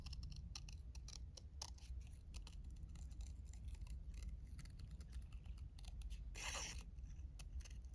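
Scissors snip through paper while a paper wallet is trimmed, a steady run of close, crisp cuts with no talking.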